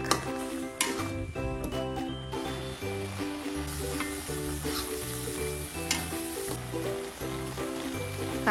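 Sambal sautéing in oil in a pan for Coto Makassar, a bright continuous sizzle with stirring and scraping against the pan, punctuated by louder bursts and clinks, with music playing throughout.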